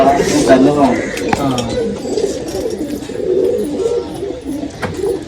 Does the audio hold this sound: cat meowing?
no